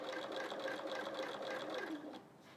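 A domestic sewing machine stitches through a quilt in a steady, fast mechanical whir with fine rapid needle ticks, running close and continuously before easing off near the end.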